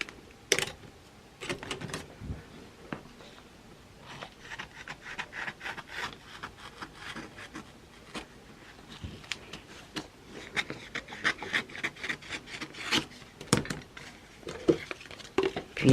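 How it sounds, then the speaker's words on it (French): Scissors or a blade cutting through DC-Fix adhesive vinyl for a children's bird feeder craft, giving steady close scratchy rasping and crisp snips with irregular rhythm throughout, no talking. "Alors, je vais découper ça."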